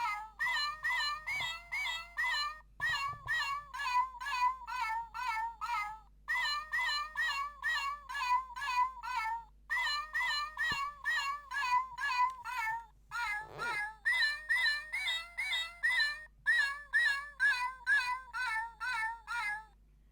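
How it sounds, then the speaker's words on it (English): A Teksta Newborn robotic toy kitten's electronic meows repeat in quick, regular bursts for twenty seconds, bright and synthetic, with brief pauses between phrases and no talking. "Sing, Kitty."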